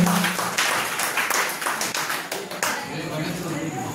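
Applause welcoming a guest at a ceremony: a crowd claps in a quick burst that thins out after a few seconds, heard fairly close with voices mixed in.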